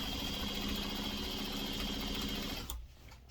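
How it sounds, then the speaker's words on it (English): A sewing machine runs steadily at average stitch length, sewing binding strip around the edge of a quilt, a continuous close whir that stops abruptly near the end. "And I'm going to sew around, making sure you don't stretch anything."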